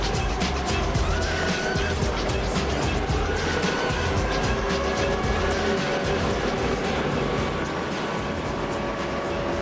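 NASCAR Xfinity Series race cars pick up speed at Talladega Superspeedway as the field gets back underway, a loud continuous engine roar with rising tones throughout.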